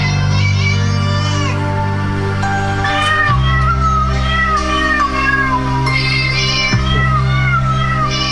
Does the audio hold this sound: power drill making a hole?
no